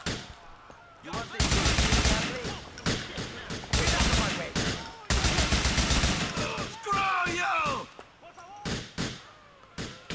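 Rapid bursts of close, loud gunfire in Grand Theft Auto IV, long sustained volleys broken by single shots and short pauses, with a brief shouted voice mixed in partway through.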